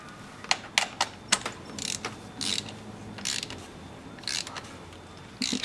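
A hand ratchet clicks in short bursts while tightening a spark plug in a 2015 Hyundai Sonata 2.4L engine, with sharp close clicks separated by brief pauses, and no talk.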